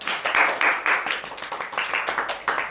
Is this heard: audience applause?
yes